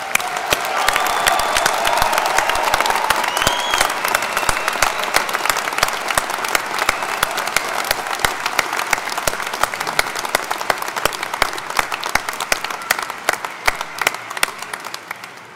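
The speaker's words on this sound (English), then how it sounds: "Let's give another round of applause to our graduates." A large commencement crowd gives graduates a sustained round of applause, thick continuous clapping with a few cheers, loud and even throughout before tapering slightly at the end.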